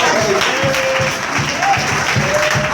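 A church congregation applauds steadily to acclaim the Lord, with dense, continuous clapping throughout and voices mixed in beneath it.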